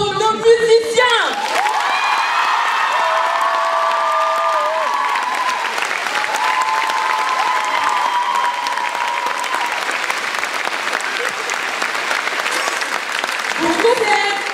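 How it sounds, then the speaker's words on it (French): Thunderous, continuous applause fills the hall at a choir's end-of-season recital for the musicians, packed clapping mixed with cheers, whoops and crowd voices, holding steady at full strength throughout. "Un tonnerre d'applaudissements pour nos musiciens."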